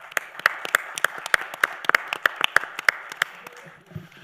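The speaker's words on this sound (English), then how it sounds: "And for them, really, a big round of applause." A conference panel audience gives a round of applause: a steady patter of separate claps, moderately close and fairly thin, lasting about four seconds before fading out.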